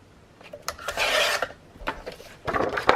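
Cardstock being trimmed along its long sides with a paper trimmer: a sustained rasping slide near the microphone, followed by shorter scraping strokes and a final burst of rubbing, all close and moderately loud with no talking.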